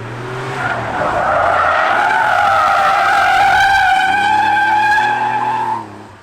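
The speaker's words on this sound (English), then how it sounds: "we've mastered the art of sliding the 964 with an open diff" A Porsche 964 with an open differential sliding, tires squealing loudly in a long, wavering, pitch-shifting screech over the low engine drone, which fades as the slide ends.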